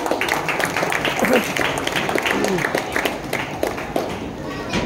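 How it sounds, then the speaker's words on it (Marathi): An audience at a state youth stairs games opening ceremony gives sustained, fairly loud applause, a continuous wash of claps with a few voices and a brief shout rising through it. "त्यांच्यासाठी एकदा जोरदार टाळ्या"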